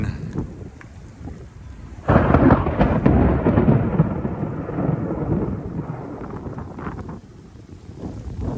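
A summer thunderstorm in Central Florida: a loud, rolling rumble of thunder breaks in at about two seconds and slowly fades, over steady rain and gusts of wind buffeting the microphone, with no one talking.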